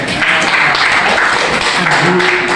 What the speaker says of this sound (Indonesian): Tepuk tangan untuk Maulana dulu.